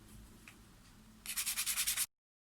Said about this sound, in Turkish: Şimdi bunu zımparalarla daha da yumuşatacağız.